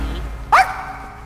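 A cartoon dog gives a single short, loud bark, cutting in sharply over a quiet soundtrack.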